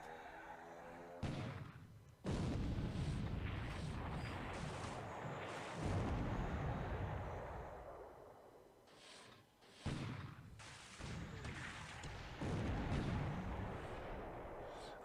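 Heavy booms roll out from torpedo hits on a ship in a naval war game, several deep blasts with long rumbling tails, loud and close, and a voice speaks briefly between them.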